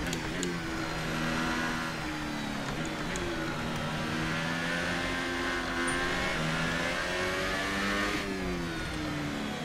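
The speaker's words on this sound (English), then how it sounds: "I miss the old engine sounds." A Formula 1 race car engine in an F1 racing video game, racing at the French Grand Prix, screams close and loud, its pitch rising and falling with upshifts and lifts in a continuous high-revving whine.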